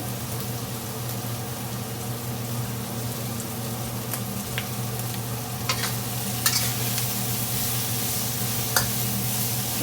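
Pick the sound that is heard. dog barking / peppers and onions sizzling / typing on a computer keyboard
peppers and onions sizzling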